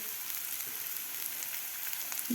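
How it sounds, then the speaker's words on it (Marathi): Sprouted moth beans sizzle and frying in a hot pan as they are stirred, a steady hiss with faint scraping and a small clatter at the end, no voices. "थोडीशी आपल्याला हलवून घ्यायची आहे मटकी"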